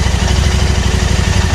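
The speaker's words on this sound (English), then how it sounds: "So what we're going to do is rev the bike, not too much" Steady, loud motorcycle engine running close up at a fast, even pulse, a bike such as an Interceptor or GT revved gently during lockdown maintenance.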